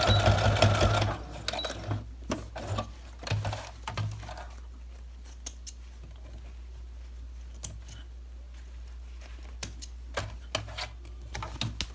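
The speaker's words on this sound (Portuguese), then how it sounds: "Vou fazer uma costurinha para prendê-lo primeiro." A sewing machine stitches a small scrap of bias binding with a close, fast mechanical rattle for about a second, followed by quieter scattered clicks and handling taps over a steady low hum.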